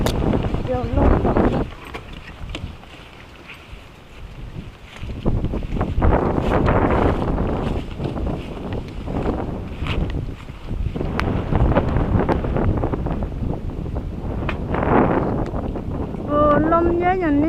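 Strong stormy wind buffets the microphone beside a reservoir, roaring in uneven gusts throughout, while voices speak faintly underneath.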